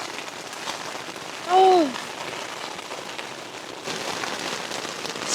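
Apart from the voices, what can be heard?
heavy rain on a tent during a thunderstorm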